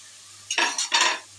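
Cashew, chili and ginger paste being stirred and sautéed in a pan for vegetarian aloo dum, two close scraping strokes with a sizzle, the second longer, then quiet.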